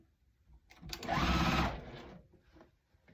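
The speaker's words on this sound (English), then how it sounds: "I'm going to sew this side on." A sewing machine runs a short burst of stitching along the side of a checkerboard basket quilt block, a loud close whir about a second long with quiet handling before and after.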